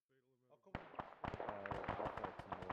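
Mortar shells burst in the Arma game mod Frozen Front, a dense volley of sharp cracking explosions that starts suddenly after a brief tonal lead-in and keeps rattling loudly to the end, with no voices.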